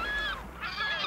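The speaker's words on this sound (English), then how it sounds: "when the birds of the sea gather in shrieking assembly and dive frantically beneath the surface" Gray gulls shriek in a noisy flock while scavenging a dead ocean sunfish at sea, giving loud, harsh overlapping calls in two bursts.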